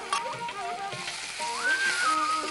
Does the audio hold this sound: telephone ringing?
no